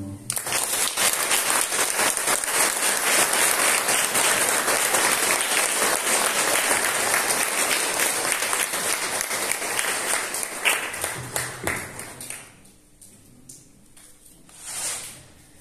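Congregation at a patronal feast for San Jerónimo in Silacayoapilla, Oaxaca, gives loud, sustained applause for about twelve seconds, then it thins and fades to near quiet with a brief murmur at the end.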